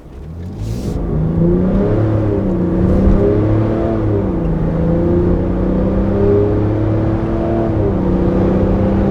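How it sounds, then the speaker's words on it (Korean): A Land Rover Defender 90 with a 3-litre mild-hybrid diesel accelerates hard from inside the cabin, its engine rising through several gear changes in a loud, steady climbing drone. "실제 가속에서는 어느 정도 할지 잠깐 볼게요"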